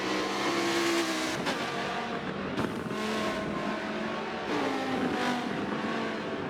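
Race cars in Forza 7 scream past at speed, engines rising and falling through gear changes, with tires squealing in corners, loud and continuous.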